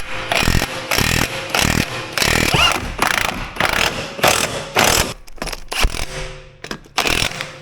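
Impact wrench fitted with a chrome impact socket on a Range Rover in a busy repair garage, firing in short loud rattling bursts with brief gaps, then a few lighter clicks and mechanical clatter.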